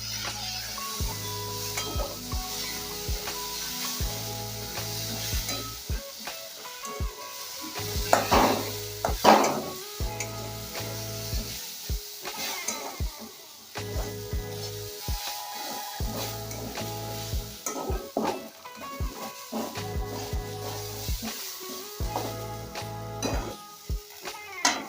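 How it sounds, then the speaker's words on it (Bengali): Ground coriander, ground cumin and green chillies frying in a pan for lentil kachori filling, with steady sizzle under repeated scraping and stirring strokes and occasional metal clinks, close and moderately loud. "দিয়ে ভালো করে ভেজে নেব।"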